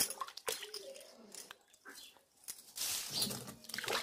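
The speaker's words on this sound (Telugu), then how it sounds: "ఇప్పుడు రోలు కడిగేస్తున్నా." Water splashes and trickles while a stone grinding mortar is rinsed, coming in irregular close splashes and drips, with a louder gushing burst toward the end.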